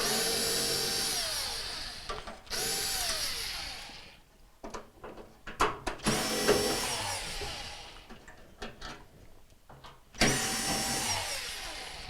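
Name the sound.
power driver removing Torx screws from washer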